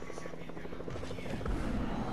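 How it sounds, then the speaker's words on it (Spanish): A helicopter in the Fortnite video game, its rotor giving a steady rhythmic chop that grows slightly louder near the end, heard under the sustained hum of game sound. "Viene un helicóptero."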